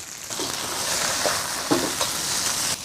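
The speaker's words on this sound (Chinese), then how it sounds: "大火翻炒均匀" Chilies, garlic and fermented black beans stir-fried in rapeseed oil over high heat, with a steady loud sizzle and a few sharp scrapes and clanks of the ladle against the wok.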